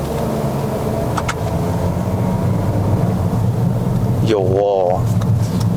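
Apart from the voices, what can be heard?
Toyota Corolla Sport 1.2T car pulling away from standstill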